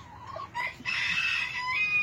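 A rooster crows once, a loud, close, drawn-out call with a few softer clucks before it, otherwise quiet.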